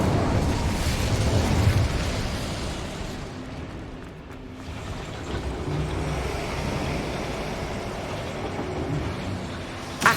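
The Incendio fire spell is cast in Hogwarts Legacy, a dense, roaring burst of flame and rumble that holds steady for several seconds, loud and close, dips briefly, then swells again and ends with a sharp pop.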